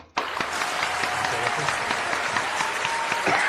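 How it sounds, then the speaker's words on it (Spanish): Loud, dense studio applause for a guest on a Peruvian TV interview programme, starting abruptly and holding steady as a continuous wash of clapping for about three seconds. "un aplauso fuerte para él, Michel Celivega."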